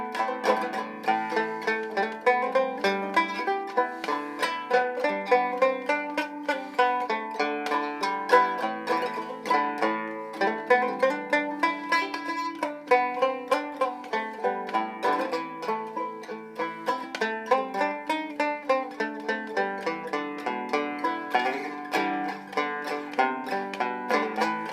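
A homemade six-string mountain banjo is played in a steady, bright run of plucked notes and chords, close and moderately loud, with no talking.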